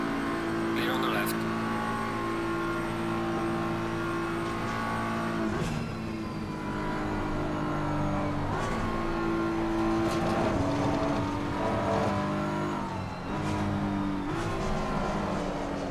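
Race car engines in Assetto Corsa Competizione hum and rise steadily, with gear changes and pitch sweeps as cars run close together, under a voice that talks intermittently.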